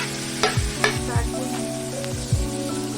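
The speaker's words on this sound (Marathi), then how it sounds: "यात आपण हा अर्धा किलो टोमॅटो कापलेला टाकूया। कांद्यासोबत हाई फ्लेम वरती भाजून घेऊया लालसर।" Onion and chopped tomato frying on a high flame for chicken biryani, with a steady close sizzle and several scraping stirs of a spoon in the pan, no talking.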